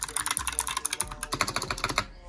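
Rapid clicky keystrokes on a Razer Huntsman Mini keyboard with purple clicky switches, sharp close-up clacks in a quick irregular burst, with a voice talking over them.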